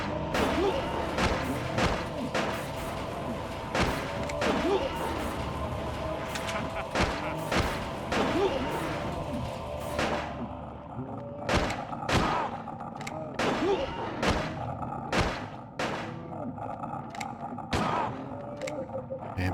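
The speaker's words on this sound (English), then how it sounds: "Regular gun." A regular gun fires repeatedly in the video game Silent Hill 4, loud sharp shots in dense bursts at first, then spaced out, with thuds and impacts mixed among them.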